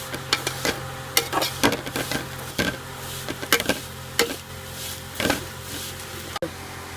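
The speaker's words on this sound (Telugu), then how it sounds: "జీడిపప్పు వేసుకొని వేయించుకోవాలి." Cashews frying with vermicelli in a pan, a low sizzle under repeated scraping and stirring knocks of a spoon against the pan, steady and close.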